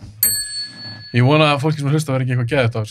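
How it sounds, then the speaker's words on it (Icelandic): A single bell rings once with a bright, sustained ding that decays under a voice as he starts talking over it. "Þetta er mín bjölla."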